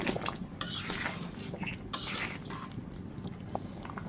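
A spoon scrapes and clinks against the pot while stirring a thin shrimp and sweet pumpkin curry just after fresh coriander leaves go in, with soft wet sloshing and a few sharper taps, close and moderately quiet.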